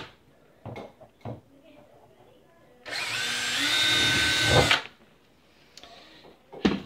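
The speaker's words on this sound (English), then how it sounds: "I'm going to drill a couple of pilot holes on the back wall of this sink cabinet" A power drill bores pilot holes in the back wall of a sink cabinet during a dishwasher install, one loud, steady whine lasting about two seconds between quieter knocks and handling sounds.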